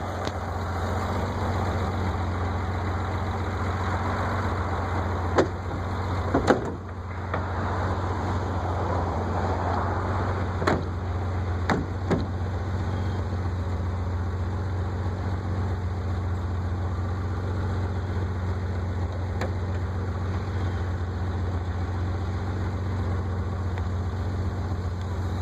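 A 1986 BMW 325e six-cylinder with a five-speed sits idling with its hood up, giving a steady low rumble throughout and a few sharp clicks and knocks near the start.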